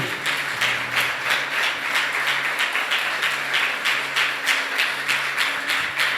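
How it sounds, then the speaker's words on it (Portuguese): A church congregation applauds steadily at a service, a dense wash of many hands clapping throughout, fairly close and loud with a faint low hum beneath. "Pode aplaudir ao Senhor"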